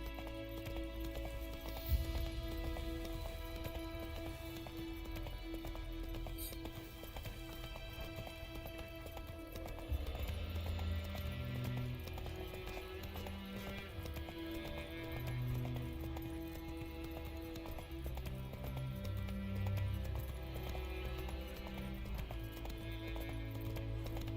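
Roach the horse galloping in The Witcher 3: steady, close hoofbeats in a fast clip-clop rhythm throughout, layered under game music and ambience.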